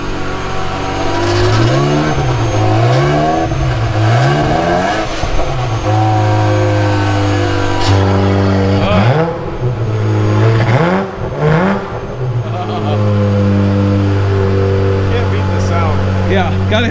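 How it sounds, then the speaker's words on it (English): Ferrari 355 engine running, a loud, close mid-pitched idle with repeated revving swells and a steady whir beneath, while people talk over it at times. "It's never a bad day when you get to hear a 355."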